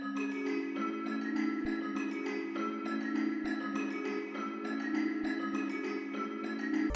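Dark ambient melody built in FL Studio, with the very lows and highs cut and a halftime effect applied, plays alone as a steady sustained tonal pad with faint regular rhythmic ticks throughout.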